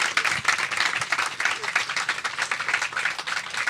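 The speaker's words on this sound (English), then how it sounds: "Can you join me in just thanking them and giving them a round of applause?" Audience applause at a community health event, a close, lively stretch of many hands clapping with a pulsing, uneven rhythm and no talk over it.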